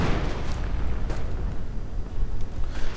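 Grenade blasts in a WWII real-time strategy game, rumbling muffled bursts layered over a continuous low battle din, with no voices.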